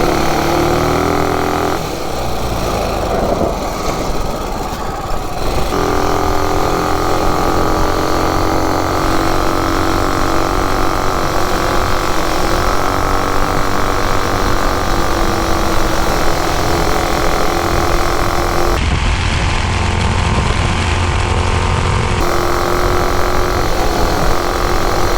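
A quad bike with a Predator engine and a Juggernaut driver runs for a sustained stretch, a loud, dense, continuous engine roar with brief shifts in tone.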